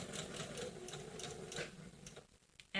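A sewing machine understitching bias binding along a garment edge runs in a steady rapid whir with a faint ticking rhythm for about two seconds, then pauses before a brief louder knock at the end.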